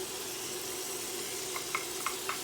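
Scallion, onion and scotch bonnet pepper frying in hot oil make a steady low sizzle with a faint hum underneath, and a few small pops and crackles near the end.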